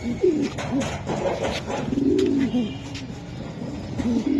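Racing pigeons from a club loft coo in repeated low, throaty phrases, close and fairly loud, with no talk over them.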